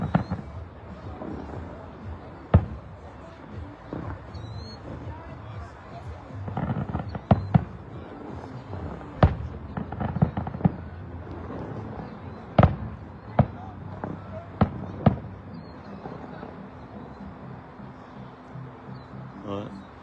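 Fireworks bursting at La Ronde amusement park, irregular sharp booms and cracks at a distance over a murmuring crowd, with people talking nearby.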